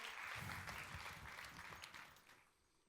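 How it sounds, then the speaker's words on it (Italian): Applause from the audience at the GEN BLUE 2025 awards ceremony while the winner poses for the award photo, a steady crowd clapping that fades out toward the end, faint and distant. "Continuiamo l'applauso durante la foto, che è più entusiasmante"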